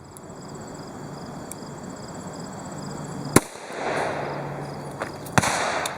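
A .38 Special Remington Golden Saber +P 125-grain round is fired into clear ballistics gel outdoors, with two sharp, loud shots standing out over steady insect-like background hiss.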